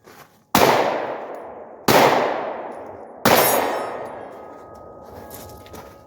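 Three loud 9mm pistol shots fired one-handed at targets on a shooting range. The evenly spaced sharp cracks each ring off into a long metallic decay, and nobody speaks.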